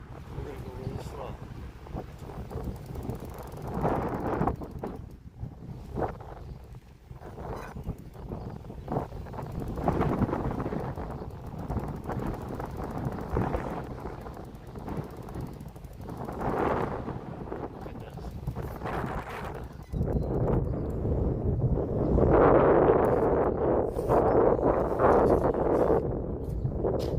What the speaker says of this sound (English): The wind's gonna pick up a little bit here.